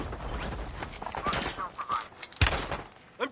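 Enemy gunfire in Warzone crackles in several quick bursts of close shots, interleaved with brief in-game radio voices.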